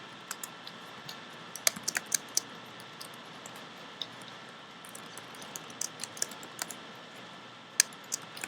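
Typing on a computer keyboard, with irregular bursts of crisp key clicks over a quiet room hiss, moderately close and with no talking.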